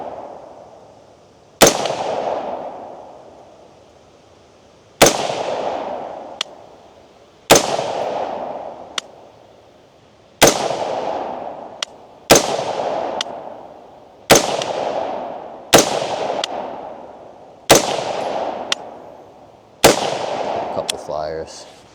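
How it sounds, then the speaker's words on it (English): Overgassed rifle fitted with a GOYOJO GRS225RF thermal scope, about nine sharp loud gunshots spaced a few seconds apart, each followed by a decaying outdoor echo. "So we're gonna shoot 10 more rounds through it."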